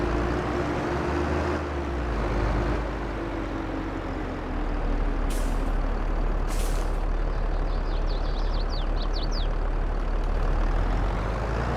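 A truck with air brakes in Farming Simulator 22, its engine rumbling steadily throughout with a couple of sharp hissing air-brake releases in the middle and faint high chirps afterward.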